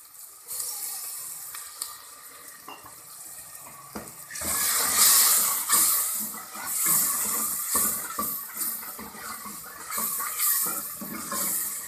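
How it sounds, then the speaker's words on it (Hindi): Water poured into frying tomato masala seasoned with salt, turmeric and chili, in a village kitchen for dal mash, sets off a sudden loud hiss and bubbling sizzle that swells and keeps crackling after a quieter start. "और अब इसको थोड़ा सा पानी लगा लें।"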